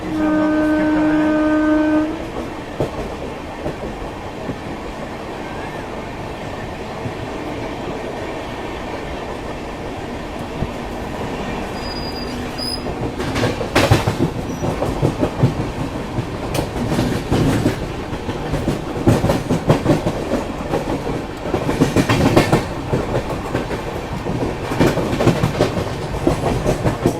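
A train heading toward Kanpur Central rumbles and clatters along the rails, opening with a sustained horn blast, then a long loud run of clickety-clack and rushing noise heard from on board.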